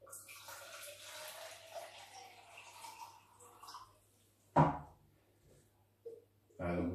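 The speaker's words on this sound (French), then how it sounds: "Je vais ajouter de l'eau dans mon shaker, à peu près 250 ml" About 250 ml of water poured into a shaker for a smoothie: a soft, rushing pour under quiet background talk, followed by sharper splashes and sloshing near the end.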